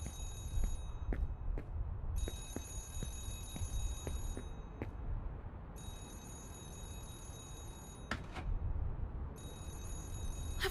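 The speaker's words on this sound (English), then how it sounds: "I can hear it ringing behind the door." An old telephone rings repeatedly behind a locked office door in the horror game Remothered: Broken Porcelain, its bright bursts starting and stopping in a steady ring pattern over low, rumbling ambience.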